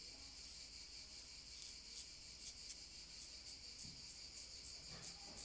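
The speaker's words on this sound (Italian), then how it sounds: "ti voglio far sentire i rumori che mi circondano, queste cicale che fanno sto mega concerto" Cicadas chirp in chorus outdoors, a faint, steady high buzz broken by regular short pulses, with no talking.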